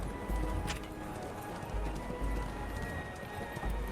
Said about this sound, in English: These horses are now going to be guided slightly away.